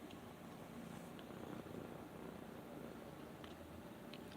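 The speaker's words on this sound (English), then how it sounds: "I wonder if you can hear him purring." A soft, continuous low purr from a cat, close and steady but quiet, with no talking.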